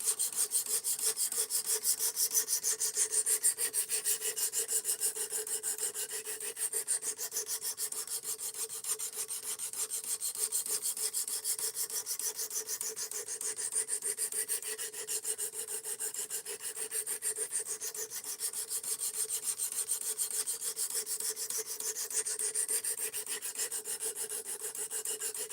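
Steel knife of S35VN being sharpened at the bevels, a continuous rhythmic rasping scrape of blade on abrasive, close and steady with repeated strokes and no talk.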